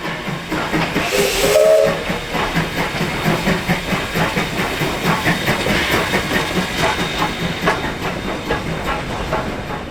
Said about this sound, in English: the locomotive is going to come around to switch tracks and pick me up